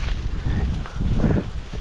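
Steady outdoor wind buffeting a microphone at a fishing spot, a low continuous rumble that swells and eases with the gusts, loud and close, with no voices.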